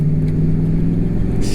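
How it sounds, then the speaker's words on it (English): A loud car rumbles past with a low, steady engine drone, heard close by from an electric moped on the road. "Whoa, that was a really loud car"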